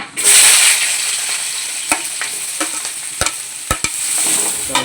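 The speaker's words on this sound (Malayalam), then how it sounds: "ഉള്ളിയും എല്ലാം കൂടി ഇട്ട് ഒന്ന് എണ്ണയിൽ വഴറ്റിക്കൊണ്ടിരിക്കുകയാണ്" Onions sizzle in hot oil in a pan for kappa biryani, with a steady frying hiss broken by sharp scrapes and clicks from stirring, close and fairly loud, no talk.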